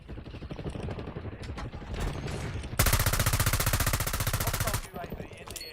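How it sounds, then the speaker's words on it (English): Rapid automatic gunfire in a Call of Duty match, a dense fast rattle of shots that runs for a couple of seconds, with other bursts and game noise around it. "How'd he shoot me through the fucking wall?"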